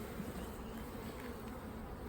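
Steady, low buzzing of many honey bees around a hive, a continuous droning hum with no voices.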